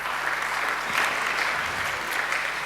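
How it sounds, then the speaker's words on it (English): Steady applause from a symposium audience on morality and criminal justice, a continuous wash of clapping heard from within the hall with no one speaking over it. "You're all, of course, welcome to applaud"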